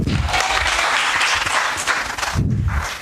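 A church congregation at a sermon bursts into loud, dense applause that carries on steadily, with a brief dip before the clapping swells again near the end.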